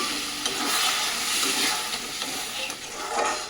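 A pan of egg curry with new potatoes and green peas hisses and sizzles steadily as a little water goes in, with scraping stirring from a spatula throughout, close and fairly loud.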